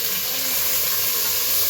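Onions fry in a pan for prawn biryani, a loud, steady, close sizzle that hisses without a break.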